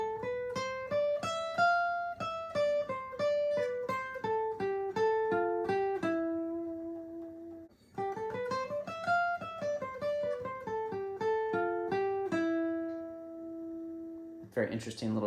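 Bright plucked acoustic guitar notes ripple in a quick melodic run, repeated twice, clear and close with no talking.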